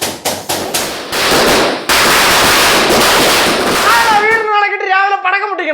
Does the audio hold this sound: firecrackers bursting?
yes